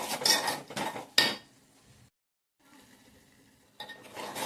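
A spoon stirring asafoetida, salt and sesame seeds in oil in a pan for a green soybean dish. Close metallic scrapes and clinks come in quick bursts, a brief silent gap, then more stirring.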